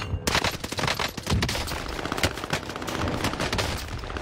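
Rapid gunshots in a video game come in dense, loud bursts of automatic fire, close and crackling, continuing almost without pause.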